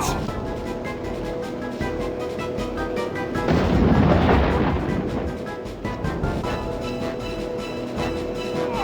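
Artillery fire in the 1998 PC game Warhammer: Dark Omen, a loud rumbling cannon blast swelling in the middle over continuous rhythmic battle noise and clattering.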